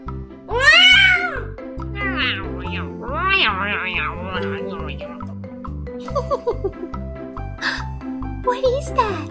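A little kitty gives a loud, rising meow near the start, followed by more meow-like calls, all over a bouncy, rhythmic music track.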